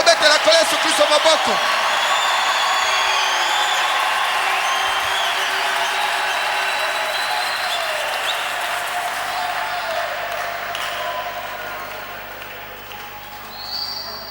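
Church congregation applauding and cheering together at a pastor's call, a loud sustained wash of clapping and voices that stays steady and slowly thins toward the end.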